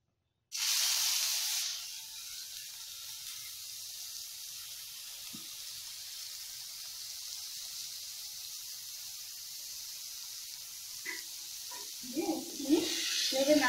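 Papaya pieces drop into hot oil in a wok for papaya chutney, starting with a loud burst of sizzling and hissing that settles into a steady spitting fry, with a few clatters near the end.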